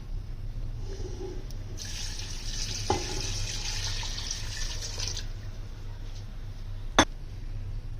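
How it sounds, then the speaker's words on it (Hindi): Steady stream of water pours into a cooking pot for beef pulao, a continuous splashing rush that lasts several seconds before stopping, ending with a sharp clink. "तो वो हमने इसके अंदर 5 गिलास पानी डालेंगे।"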